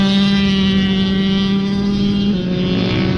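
Kawasaki KX65 minibike engine revving steadily as a young rider cracks the throttle open, a strong buzzing two-stroke drone with a constant tone, loud and continuous throughout.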